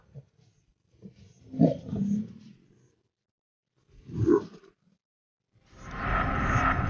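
Lion roaring in the wild: two deep, drawn-out roars separated by a pause, followed by a broad rushing noise, fairly close and with no talking.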